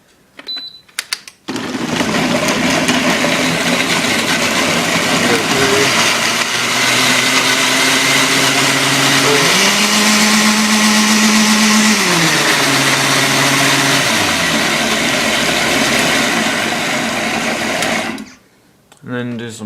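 A blender grinds smoothie ingredients in one continuous loud whirring roar that lasts most of the stretch, its motor pitch rising and dipping as the speed changes, then cutting off abruptly near the end.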